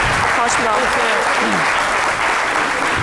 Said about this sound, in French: Ça s'applaudit quand même